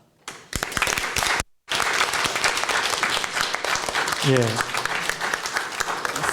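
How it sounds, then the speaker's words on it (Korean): A church congregation at a Korean Sunday service claps warmly to welcome newly registered members: dense, sustained applause with a brief pause, while a voice speaks over part of it. "우리 박수로 환영하겠습니다"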